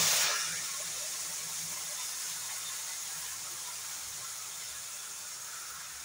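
Water is poured into a mixer grinder jar to rinse off leftover masala paste while a vegetable sabji cooks; a steady, close hissing splash runs the whole time after a brighter start.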